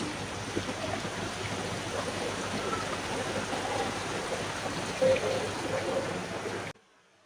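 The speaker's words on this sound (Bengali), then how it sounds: "বাহিরে বৃষ্টি হচ্ছে আর আমার রান্না হচ্ছে চুলায়" Steady rain falling outside a home kitchen on a wet afternoon, a dense, even wash of noise that holds for about seven seconds before cutting off abruptly, with no voices.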